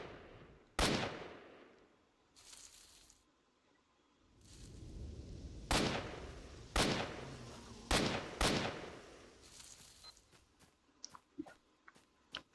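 Gunshots in Stalker: Shadow of Chernobyl ring out as a series of sharp, loud single reports spaced a second or so apart, followed by a faster cluster of quieter cracks, against a low, rumbling ambient backdrop.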